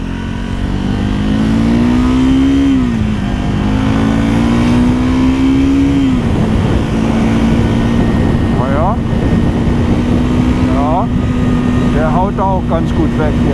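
A 2024 Triumph Scrambler 400 X single engine drones steadily while riding, its pitch climbing and dipping through gear changes, with a voice talking over it near the end.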